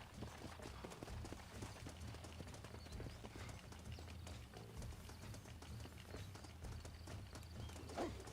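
Horse hooves in a video game clip-clop in a steady, quick rhythm under a constant wash of background noise, fairly faint, with no clear talking.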